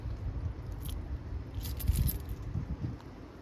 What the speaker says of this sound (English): Better get the keys out, I suppose.